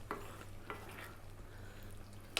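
Beef and eggplant curry with coconut milk just added and simmering over low heat is stirred with a spoon, giving a few soft scrapes over a faint bubbling hiss and ending in a sharp clink against the pan, with no speech.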